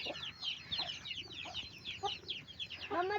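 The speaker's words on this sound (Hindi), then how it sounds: "ये देखिए कितने प्यारे प्यारे से चूज़े हैं।" Hens cluck and chicks peep in a lively, fairly close chatter, with a louder burst of squawking near the end.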